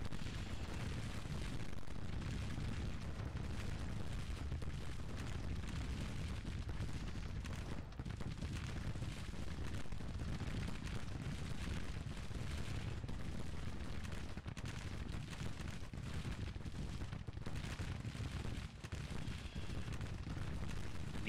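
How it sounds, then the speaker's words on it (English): Cannon fire in a Civil War battle video game, a dense continuous rumble of distant artillery booms rolling under one another, fairly quiet and steady throughout with no voices. "These cannons been firing all day and night."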